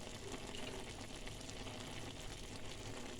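Ridge gourd pieces frying in hot oil give off a steady, dense crackling sizzle, close and continuous for a few seconds with no voices.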